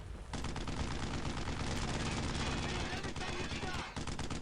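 Rapid gunfire from the World War II shooter game Brothers in Arms: Road to Hill 30 runs steadily through a tank battle, loud and dense with repeated bursts, while a voice talks over the shooting.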